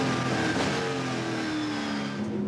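Pack of V8 SuperTourer race cars roaring off the line together at a race start at Waikato, a loud, dense wall of engine noise with rising revs throughout.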